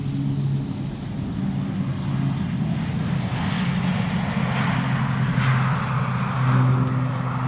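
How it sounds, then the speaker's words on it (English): A turboprop airliner passes overhead near Schiphol Airport, its engines a steady broadband drone holding at moderate volume throughout, with no voices. "I do hear a turboprop overhead."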